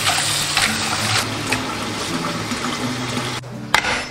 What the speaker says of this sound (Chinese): 接着再用清水给它淘洗一遍。